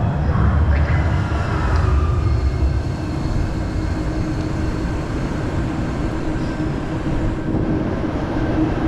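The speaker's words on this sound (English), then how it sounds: "The next 69 street trains arrive. Please stand behind the yellow line." A Calgary train rumbles steadily nearby, a low continuous roar with faint squeals and hiss as it pulls into a station; no voices.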